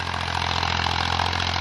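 A 1992 Massey Ferguson MF 240 tractor engine idles steadily with a low, even throb, heard briefly and moderately quiet on its own.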